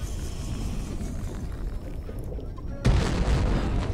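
A sudden sharp firecracker bang in the video game From Dust cuts through steady low rumbling ambience, followed by a louder, brighter noisy wash that continues afterward.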